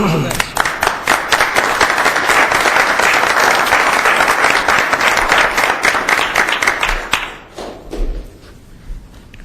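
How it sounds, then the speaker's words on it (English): Loud, close clapping from the audience at a Bartlett village board meeting, sustained for about seven seconds before thinning to scattered claps and fading out. "I'd like to give them a round of applause."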